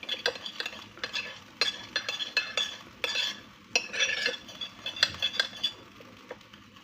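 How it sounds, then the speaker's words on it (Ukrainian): A spoon stirs salad ingredients in a bowl with oil and vinegar, producing irregular bursts of scraping and clinking against the dish, close and clear with short pauses between strokes. "Я це все перемішаю. Ось так перемішую."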